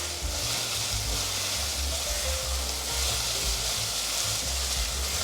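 Tofu skin strips stir-fried with shiitake mushrooms in a wok, a dense, continuous sizzle with steady stirring throughout, close and loud.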